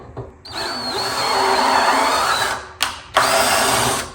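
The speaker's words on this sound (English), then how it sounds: "So I'm just going to run the tap here, clean the threads." Steady whirring drive of a 6mm tap being run through threads on a John Deere L130 lawn tractor spindle, loud and continuous with two brief pauses near the end.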